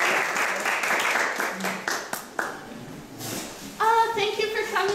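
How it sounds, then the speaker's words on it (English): Audience applause at a GIC Talk event as speaker Emma is welcomed, a moderate wash of clapping from a crowd that fades out as a voice begins speaking near the end. "please welcome Emma with a big round of applause"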